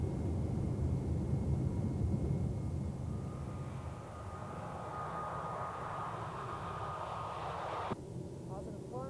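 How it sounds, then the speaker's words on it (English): Boeing airliner engines spool up to takeoff thrust in a loud, steady broadband roar heard from inside, with a whining tone rising through the middle and a brief thump near the end; no talking. "So takeoff thrust."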